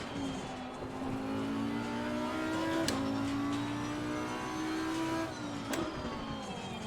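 An Audi race car engine in the racing game Assetto Corsa Competizione drones steadily through a climbing gear, with two sharp upshifts and a slight dip in pitch at each change, heard close and alone with no talk.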